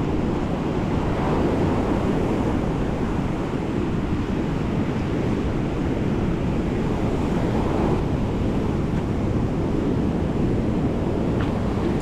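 Sea waves wash continuously onto the shore with wind buffeting the microphone, a steady roar without voices.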